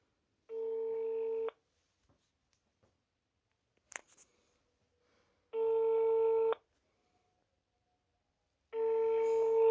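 Ringback tones of an outgoing phone call sound in three evenly spaced, steady, loud beeps of about one second each, separated by near silence with a faint click between them.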